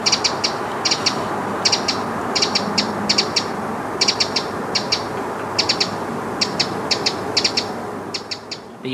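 A Eurasian wren sings out in the open near a summer house, with repeated bursts of high, rapid trilling notes in quick clusters over a soft background hush.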